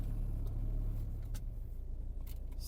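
A Saab 9-5 Aero car with a stage 1 tune drives along, its engine producing a low, steady rumble with faint road noise and a few small clicks inside the cabin.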